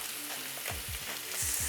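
Short rib sears in a hot pan with a steady close sizzle, punctuated by several low thumps as the meat is pressed or shifted, with the hiss brightening toward the end.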